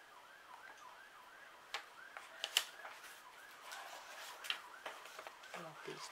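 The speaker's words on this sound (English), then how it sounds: "Sorry for the sirens in the background." A siren wails faintly in the distance, rising and falling in repeated sweeps beneath a voice and light handling noises close by.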